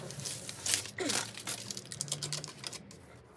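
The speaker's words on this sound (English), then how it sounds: "So this heat-proof tape from B&Q, I'll stick on there, and that should help out." Heat-proof tape is pulled, torn and pressed down over the paintwork of a classic Mini during restoration, giving close, faint crinkling, ripping and tapping sounds in short bursts.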